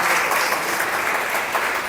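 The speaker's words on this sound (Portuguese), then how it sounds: "Vamos aplaudir Jesus em forte." A church congregation applauds in a loud, continuous wash of many hands clapping together, sustained evenly with no pauses.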